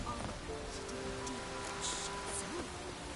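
Steady downpour in The Witcher 3, a dense broadband hiss of rain filling the scene at moderate level, with faint voices and game sounds beneath it.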